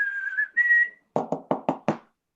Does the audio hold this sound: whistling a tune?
yes